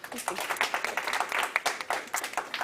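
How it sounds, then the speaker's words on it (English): Scattered audience applause at a South African tech challenge event, a light patter of claps that lacks a clear crowd roar, with speech-like sound mixed in. "A round of applause, please."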